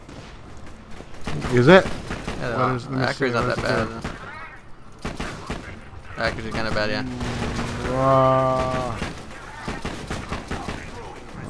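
Gunfire from weapons in the shooter game Borderlands 2 rattles in quick bursts, mixed under players' voices talking through most of the stretch.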